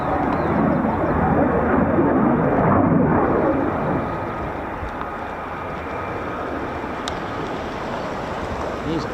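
F-35 fighter jets flying at RAF Lakenheath, heard as a loud, steady broadband jet roar that fills the whole clip and eases slightly after the first few seconds.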